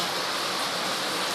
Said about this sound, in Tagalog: Ulan pa rin talaga ulan.